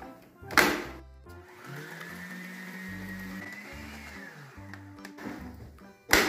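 Electric mixer beating three room-temperature eggs with sugar and oil for a homemade bread, a steady close whirring drone running several seconds between two sharp knocks at start and end.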